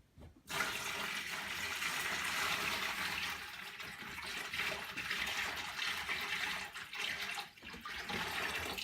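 Water poured steadily into a tank to top it up and submerge wood samples, a continuous rushing, splashing fill heard close and fairly loud throughout, with no talking.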